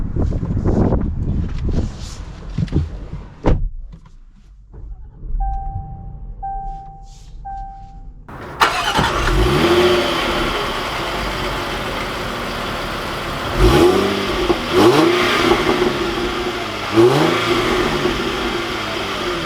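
A 2020 Land Rover Discovery Trek Edition starts after a few quiet clicks and handling sounds, then its engine runs steadily and pulls away, with swells of revving and road noise continuing to the end.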